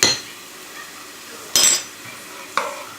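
Metal lid placed onto a cooking pot of calf's liver with fennel, sharp clinks at start, then a loud clatter and a softer clink a second later, with quiet gaps between.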